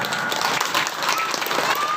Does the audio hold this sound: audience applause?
yes